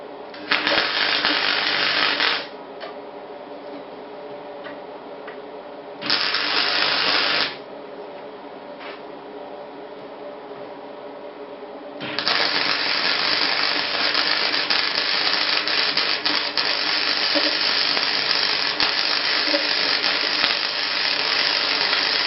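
A Mig 100 welder runs on a small piece of metal, its steady buzzing crackle sounding in three bursts, two short and one long, with a quieter hum between them.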